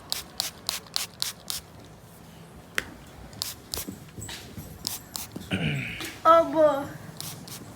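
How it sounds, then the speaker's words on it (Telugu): An aerosol insecticide against bedbugs is sprayed in short, sharp bursts indoors, a quick series of close hissing puffs, followed by quieter rustling while someone speaks and a voice briefly rises. "సో ఇక్కడ అంతా స్ప్రే చేసుకోవాలన్నమాట."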